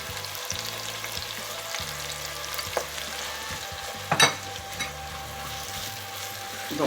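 Rice frying with vegetables like leek, garlic, onion and celery in a pan, a steady close sizzle with a low rumble beneath, broken by a couple of sharp utensil clinks against the pan.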